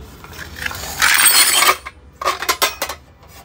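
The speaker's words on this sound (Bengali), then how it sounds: "যেমন 35 পিস এলকি বা এলএনকি এখানে আছে, আমি একটু ঢেলে দেখাই।" A 35-piece set of steel L-shaped Allen keys from old ship-salvage Japanese tools is poured out, a close metallic clattering burst followed by scattered clinks and jingles as the keys settle.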